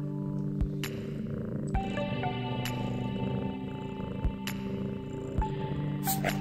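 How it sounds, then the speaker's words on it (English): A pet cat purrs close up in a steady, continuous low rumble that runs through the whole stretch, with a few sharp clicks and knocks scattered over it and no one talking. "You're such a little purr monster."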